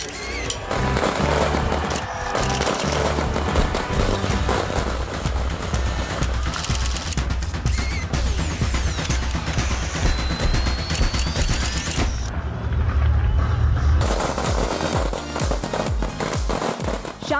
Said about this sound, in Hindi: शानदार आतिशबाजी है और भरपूर रंग है।